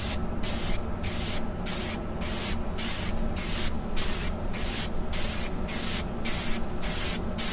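Spray gun laying Raptor liner bed-liner coating onto a Snap-on tool cart top in overlapping passes, a loud steady hiss broken by regular short pauses about every half second, close and continuous with no talking.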